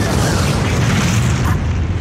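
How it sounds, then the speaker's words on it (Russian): Anime monsters exploding, a dense, loud, continuous low rumbling boom that fills the whole stretch without a break. "а потом взрываются."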